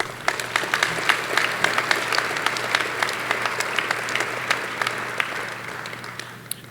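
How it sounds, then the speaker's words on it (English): An audience at a chamber of commerce annual meeting and awards event applauds state representatives and senators with steady, sustained clapping from a roomful of people that fades slightly toward the end. "If you would give them applause."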